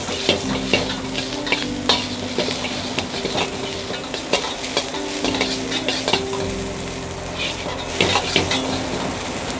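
Onion and capsicum stir-fry in oil on a street food stall's tawa, with a constant sizzle broken by repeated metal scrapes and clanks of a spatula against the pan. No one speaks.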